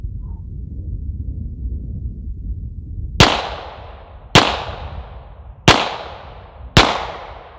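A Springfield 1911 Range Officer pistol fires four loud, sharp shots at roughly one-second intervals, each with a brief echoing tail. Before them is a stretch of low outdoor rumble.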